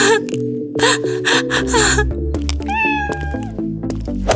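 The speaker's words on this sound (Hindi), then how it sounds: "मेरा छोटा सा किटन ऊपर पेड़ पर फंस गया है और वो नीचे आने से डर रहा है।" A small kitten stuck up a tree meows several times, close and plaintive, with short cries and then one longer wavering meow over soft background music.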